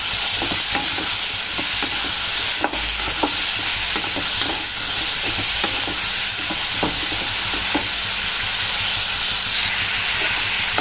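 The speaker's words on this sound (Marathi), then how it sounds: "आता याच्यात आपण जे टोमॅटो कच्चे चिरून घेतले ते टाकून घेऊया व साधारणतः 1-2 मिनिट तेलामध्ये आपल्याला हे परतून घ्यायचे।" Chopped raw tomatoes sauté in hot oil with onion for a tomato chutney, giving a steady, loud sizzle and hiss with repeated scraping stirs of a spatula throughout, no voices.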